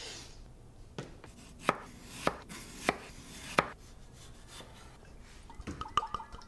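Yukon Gold potatoes sliced thin on a board, a run of four sharp, evenly spaced knife chops near and loud, followed by a quicker cluster of lighter cuts.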